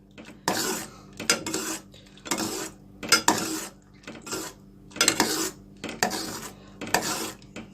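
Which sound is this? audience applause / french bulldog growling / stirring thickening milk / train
stirring thickening milk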